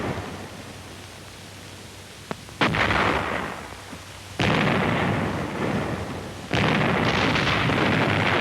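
Heavy artillery and mortar fire pounds fortified ridges held in Japanese caves, with flame weapons in use: a sharp crack, then three loud, sustained roaring blasts, each rolling on for about two seconds, over a constant background hiss.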